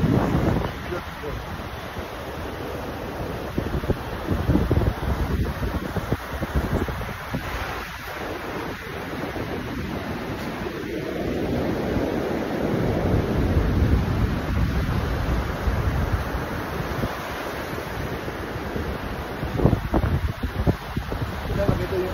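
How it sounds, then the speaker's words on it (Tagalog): Strong waves surging onto a beach on a windy afternoon, heard as a loud, continuous wash of surf that swells and recedes under heavy wind buffeting the microphone. "Ito yung alon, ang lalakas ng alon ngayon kasi nahangin."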